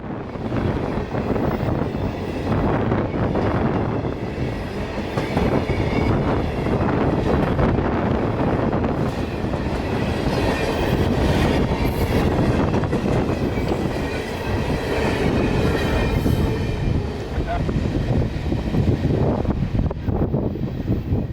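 An Amtrak passenger train rolls past on the railroad tracks in Florida, a loud, continuous rumble with rattling wheels and wind buffeting the microphone throughout.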